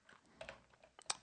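Several quiet keystrokes on a computer keyboard in short, uneven bursts, typing a command to kill a process at a terminal, with a sharper cluster of clicks near the end.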